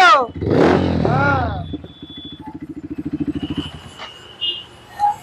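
A second-hand 2019 motorcycle with an Acrobatic silencer idles in a close, pulsing putter that rises briefly, while someone talks loudly over the start.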